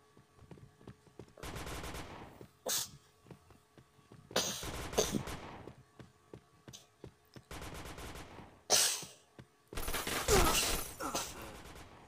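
Gunfire from the online shooter Point Blank in a deathmatch, coming in several loud automatic bursts separated by short gaps, with sharp repeated shots and no talk over them.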